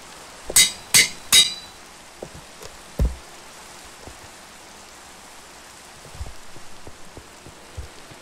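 In Minecraft, an anvil gives three quick, sharp metallic clanks close together, then one more after a pause, before quiet falls.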